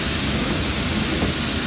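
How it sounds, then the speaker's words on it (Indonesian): Heavy rain falls outdoors during a crowded religious gathering, a dense, constant hiss with a low rumbling undertone and no gaps, loud and close throughout. "hujan cukup deras."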